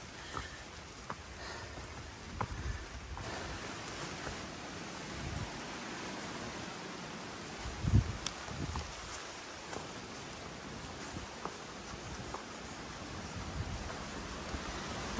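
Steady rain falls on an exposed mountain ridge during a storm on the Appalachian Trail, a dense continuous hiss, with occasional close rustles and bumps over it and no talking.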